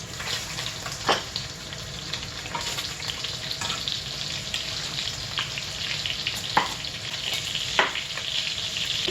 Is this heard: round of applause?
no